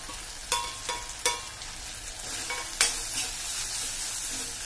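Chili powder and garam masala are stirred into hot oil in a frying pan for a bell pepper bhaji, a soft sizzle under a few sharp spoon scrapes and taps against the pan, with no voices.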